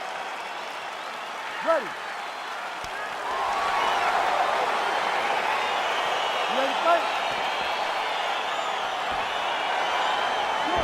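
A virtual arena crowd in the EA Sports UFC 4 video game swells into sustained cheering and applause as a fight begins. The roar rises after a few seconds and holds steady, with a voice speaking over it early on.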